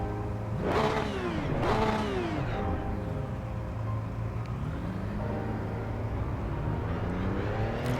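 Race cars launching from the start in the sim racing game Assetto Corsa EVO, several engines revving and climbing through gears with rising and falling pitch sweeps, then a sustained droning engine roar throughout.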